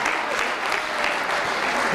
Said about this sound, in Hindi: मैं चाहता हूँ उनके लिए भी एक बार जोरदार तालियां आप अगर बजा देंगे हमें अच्छा लगेगा